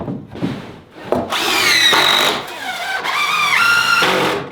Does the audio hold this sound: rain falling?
no